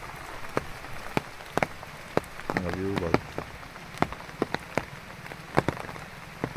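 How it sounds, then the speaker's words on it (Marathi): Steady rain patters throughout, with sharp drops ticking on a hard surface nearby and a brief low voice murmuring in the middle. "आज तरी बऱ्यापैकी पाऊस पडला"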